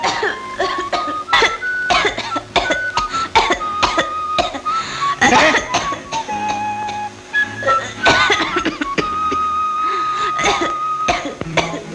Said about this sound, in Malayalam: മോളെ, മോളാണോ ചുമച്ചത്?